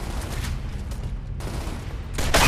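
Gunfire in Gears of War Ultimate Edition with a sniper shooting, heard as a dense, rumbling barrage under game ambience that grows louder with a sharp burst at the end.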